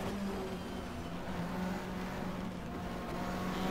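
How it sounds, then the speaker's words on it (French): A works Honda touring car passes on a wet circuit in the rain at night during a 1997 BTCC race, heard as a steady broadband engine roar with spray hiss, moderately loud and continuous, without talk. "On va laisser passer la Honda officielle qui semble être un peu pressée."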